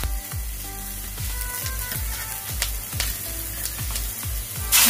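Onions and other Manchurian ingredients frying in hot oil in a pan, giving a steady close sizzle with regular scraping strokes from stirring, no voices.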